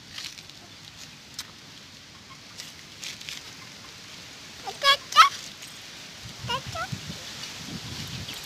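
Turkey chicks and hens on a farm give a few short, high peeping chirps and calls in two small bursts over a quiet rustling background.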